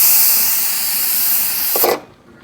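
Steam hisses loudly and steadily from the vent of a Nesco smart pressure canner processing beans, then cuts off abruptly as the valve seals to airtight.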